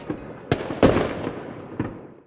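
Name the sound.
fireworks sound effect in a radio advert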